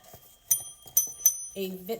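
Three bright metallic dings from a vintage W.T. Rogers call bell, each sharp and ringing at steady intervals, fairly close, followed by a voice speaking.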